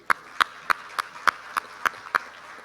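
Nine slow, evenly spaced hand claps ring out one by one at a moderate level in a quiet room at a supermarket industry economic debate panel.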